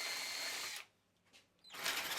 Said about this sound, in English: You can hear by the sound it makes when the clutch is being engaged by putting too much pressure on the drill